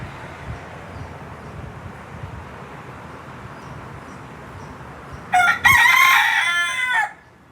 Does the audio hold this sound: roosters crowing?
yes